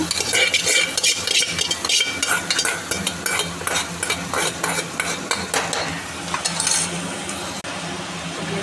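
Gongura leaves stirred and frying in a hot pan with ginger paste and turmeric give a steady sizzle and repeated scraping of a spoon against the pan, fairly loud and close.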